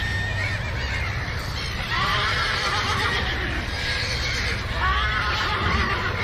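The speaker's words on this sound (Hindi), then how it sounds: "घोड़े बिदक रहे हैं." Spooked horses neigh and whinny repeatedly in a dramatized horror audio scene, several loud, shrill calls rising over a dense, continuous background rumble with faint hoof movement.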